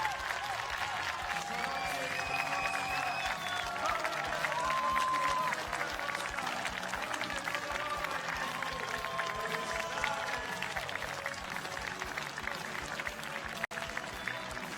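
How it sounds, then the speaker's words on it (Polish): A crowd applauds and cheers as Poland takes the gold medal in a women's 3-on-3 final at the IMCF 2015 championship. The clapping is dense and steady for the whole stretch, with some voices mixed in. "Wielkie brawa!"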